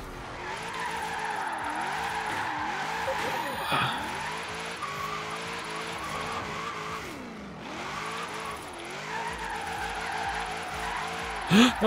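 A Land Rover Series III drifts in Forza Horizon 3, its engine droning and revving steadily while the tires skid and squeal in long sweeps throughout.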